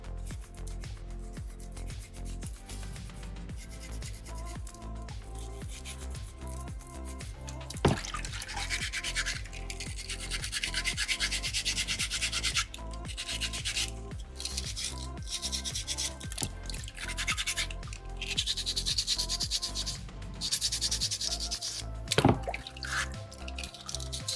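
A narrow strip of sandpaper rubbing steadily between the legs of a small soapstone fox carving, a continuous close scratchy friction with wet, drippy textures and a few sharp knocks.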